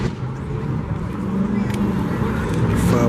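A Dodge 392 Scat Pack muscle car at a New York cars and coffee meet gives a steady, deep engine rumble close by, rising slightly, over outdoor crowd noise.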